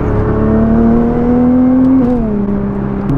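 A Nissan GT-R engine drones loudly and steadily from inside the car, its pitch holding, then dipping slightly as the revs shift, a smooth continuous hum with no talking.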